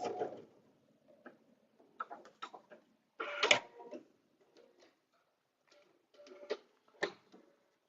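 A sewing machine stitches a paper-pieced coaster in short, separate bursts of mechanical whirring and ticking, with quiet pauses between runs.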